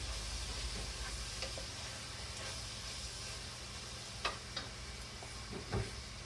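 Steady sizzling of sausage frying in a pan, a constant hiss with occasional faint pops and ticks, fairly quiet and close.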